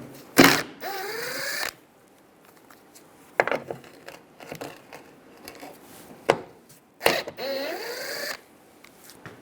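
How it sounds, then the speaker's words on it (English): A 10mm socket backing out screws from a rear bumper bracket on a 2004-2009 Toyota Prius: a few short whirring, ratcheting bursts separated by quiet clicks and handling noises. "Using a 10mm socket, take these two screws out."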